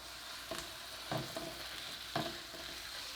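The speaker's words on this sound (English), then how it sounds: "we're going to go ahead and throw some ground beef into the mix" A pound of 80-20 ground beef fries with onions and garlic in a pan, a soft steady sizzle broken by a few spatula scrapes and taps, fairly quiet and without talk.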